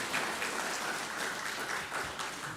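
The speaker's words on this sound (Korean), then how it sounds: "박수." A church congregation applauding to welcome visiting guests during a Christmas Sunday service, a steady, dense wash of clapping from many hands filling the room, moderately loud and without speech.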